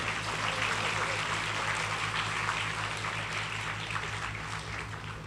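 Audience applause in a university hall, steady broadband clapping of a crowd under a low electrical hum, holding evenly throughout and easing slightly toward the end.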